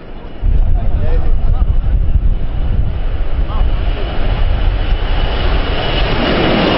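A passenger airplane departs Yola International Airport, and its jet engine roar rises into a loud, steady, broadband rush that builds toward the end. Crowd noise mingles beneath it.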